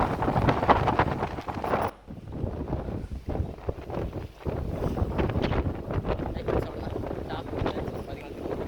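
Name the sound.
strong wind at Malampuzha Dam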